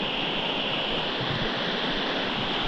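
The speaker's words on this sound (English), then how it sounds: "Just standing here in our little slice of heaven at the foot of the waterfall" Steady broadband roar of a waterfall pouring into a small pool at its foot on a small New Hampshire brook-trout stream, continuous and close, with no voices.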